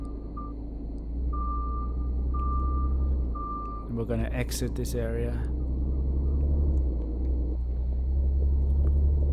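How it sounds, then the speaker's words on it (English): Truck engine rumble and reversing beeps in the Truck Driver video game on PS5: a steady low engine drone with a string of evenly spaced beeps, then a burst of noise, while someone speaks briefly. "hopefully you can hear the sounds of the truck"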